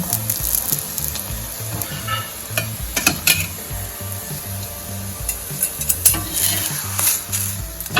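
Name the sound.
masala rotlo sizzling with oil on a pan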